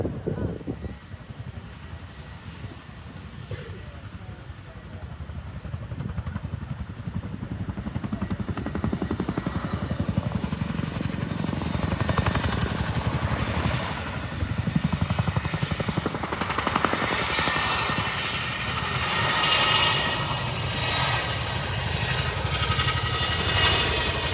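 A large aircraft powered by two 5,000-horsepower Honeywell engines departs at the Farnborough Airshow 2024, its deep throbbing rotor and engine roar building steadily and staying loud and sustained throughout, with a public-address announcer talking underneath.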